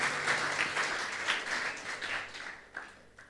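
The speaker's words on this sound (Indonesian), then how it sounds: "Tepuk tangan yang baik bagi Yesus Kristus" A church congregation applauds during a sermon, a fairly faint and distant wash of many clapping hands that swells and fades in waves.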